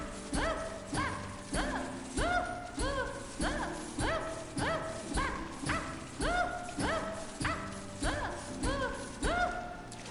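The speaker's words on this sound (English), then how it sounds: "let's see how much more I can get out of her after Daisy's done barking" A dog barks loudly and repeatedly in a steady rhythm close by, about a dozen sharp barks over ten seconds with brief gaps between them, during a Hollow Knight game session.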